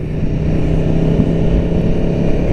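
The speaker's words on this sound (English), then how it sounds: "Engine note's pretty quiet for stock exhaust." A 2017 Aprilia Tuono V4 1100 motorcycle with its stock exhaust runs with a steady, fairly subdued engine drone, holding an even low rumble without sharp revs for a couple of seconds.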